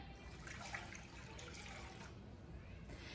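Steady vinegar pouring into a container, a continuous close splashing stream that holds even for about three seconds.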